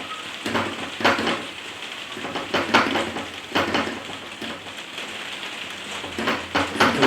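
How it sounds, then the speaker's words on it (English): Rain patters on a conservatory roof in a steady, close wash of drops, with brighter irregular tapping bursts rising and falling throughout and no voices. "Feel the rain on the conservatory roof again."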